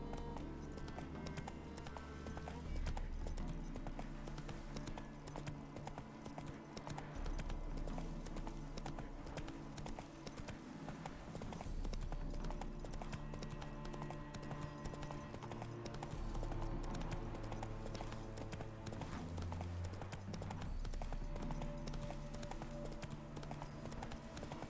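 Roach the horse galloping in The Witcher 3, rhythmic clip-clop hoofbeats pounding steadily and loudly throughout over a background music score, with an occasional brief voice.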